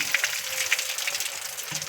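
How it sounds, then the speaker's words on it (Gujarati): Water poured onto a sun-heated tin sheet roof, a steady hissing splash that runs the whole moment without a break, fairly close and moderately loud. "જો ભાઈ આ પતરા ઉપર પાણી એડાય છે"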